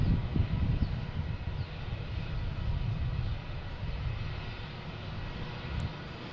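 A Lufthansa Boeing 747-400 airliner at Boston Logan airport produces a continuous, heavy engine roar with a deep rumble. It holds steady and loud throughout, then eases slightly toward the end, with no voices.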